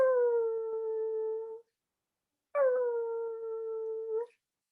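Puppies cry in two long, steady, mournful howls, each lasting over a second, with a pause between them and no other sound.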